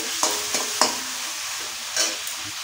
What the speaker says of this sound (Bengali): চিংড়িগুলো ভাজা হয়ে গেছে, এবার তুলে নিচ্ছি।